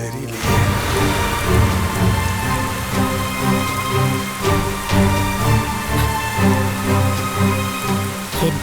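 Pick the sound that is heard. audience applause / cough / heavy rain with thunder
heavy rain with thunder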